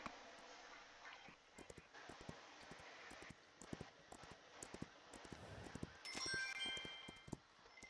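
Hooves clip-clop in a steady, fairly quick rhythm as a horse moves in the horse-training video game Evergreen Acres, the hoofbeats faint and sharp against a soft rustling background.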